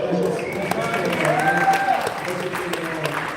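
Applause from a live convention panel audience for the Comic Book Men, a fairly loud, continuous wash of clapping with voices talking over it.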